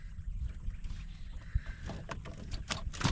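An engineless fishing boat is pushed by hand through water on the Krishna River, giving soft irregular sloshing and splashes, with a few louder bumps, over faint wind.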